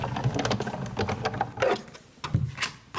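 Crank handle of a die-cutting machine turning as a framelit die on cardstock is fed through between cutting pads, giving a steady close grinding, clicking rumble with uneven ridges, alone without talk.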